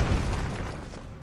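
A single explosion booms in the Broforce video game, a loud deep burst that decays over about a second.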